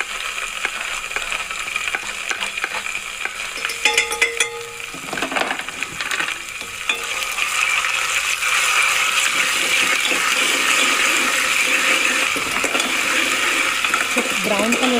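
Ginger garlic paste fries in a pan while it is stirred, first with a few clinks and scrapes, then with a steady loud sizzle that keeps on to the end.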